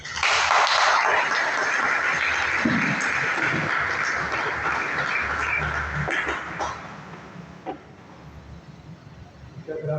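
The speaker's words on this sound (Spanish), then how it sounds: "la mejor manera de agradecerle es con los aplausos" Sustained audience applause welcoming a guest speaker at an education lecture hall, broad and steady for most of the stretch before easing off near the end.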